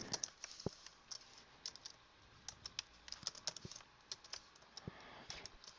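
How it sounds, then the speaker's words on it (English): Typing on a computer keyboard while entering basic HTML layout code, with quiet, irregular bursts of key clicks continuing throughout at close range. "first you have to type in this"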